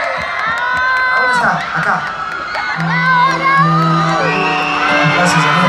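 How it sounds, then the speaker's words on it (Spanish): An audience at a singing performance in Bolivia cheers, whoops and shouts for a singer, loud and lively, with voices calling out over the crowd noise. "Quiero que recibamos con un fuerte aplauso"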